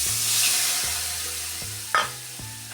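Eggs hit hot coconut oil with turmeric and chili powder, giving a soft continuous sizzle and frying hiss with a brief scrape of stirring near the end.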